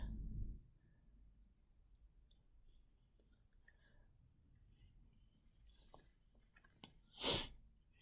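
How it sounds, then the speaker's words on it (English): A quiet room with small clicks and faint noises, then a single sharp nasal sniff near the end. "excuse me for sniffling"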